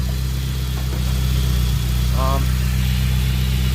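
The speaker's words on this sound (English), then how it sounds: "Car's running the same way it did" An Audi A4 B5 with a 1.8T quattro engine idles steadily and close by after an ignition control module harness delete, a constant low hum with a brief voice heard over it.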